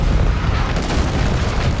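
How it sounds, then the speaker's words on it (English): Artillery strike explosions in the video game Modern Warfare 4, a dense, loud, continuous low rumble of booms and blasts. "A lot of artillery."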